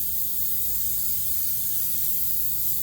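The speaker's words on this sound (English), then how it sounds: "now I'm going to spray the bottom of my pans as well as the side" Non-stick baking spray hissing onto the bottom and sides of cake pans, one continuous close aerosol spray running steadily the whole time.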